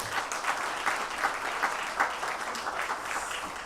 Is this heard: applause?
yes